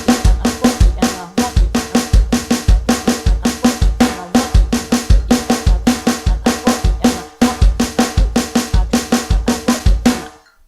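Drum kit groove built from three-note groupings of foot, left and right hands in a sixteenth-note subdivision, loud and close, with steady repeating kick and snare accents and cymbal wash filling every beat without pause.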